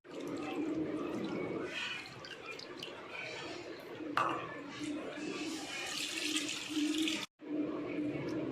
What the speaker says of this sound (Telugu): ఇప్పుడు ఈ చింతపండు గుజ్జుని ఇందులో పోస్తున్నాను